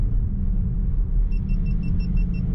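A Cupra Formentor 310HP accelerates in second gear from inside the cabin, a steady low engine rumble with a series of short, high electronic beeps near the end.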